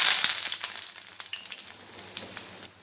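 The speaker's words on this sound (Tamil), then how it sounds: "இப்போ எண்ணெயில் போட்டு எடுக்க வேண்டியது தான்." Mutton keema cutlets dropped into hot oil in a pan, a loud initial sizzle that settles into steady crackling and popping, close up with no voices.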